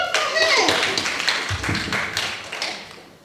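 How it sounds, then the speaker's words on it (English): Children applaud in a classroom, a burst of several seconds of scattered clapping under an adult's voice, fading toward the end. "Clap for her."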